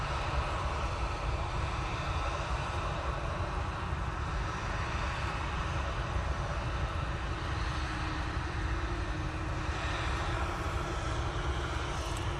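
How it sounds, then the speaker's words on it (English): An airliner lands at Manchester Airport on a contaminated runway, its jet engines and gentle thrust reverser use giving a constant loud roar that stays steady throughout with no talk. "Very passive on the reversers. Considering it's a contaminated runway."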